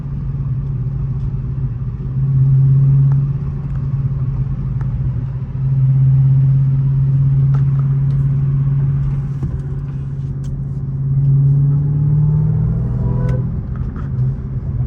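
Deep, steady engine rumble from a 2021 Dodge Charger SRT Hellcat Redeye WideBody on a night drive, swelling in loud waves as the throttle rises and falls, heard from inside the car with no talk.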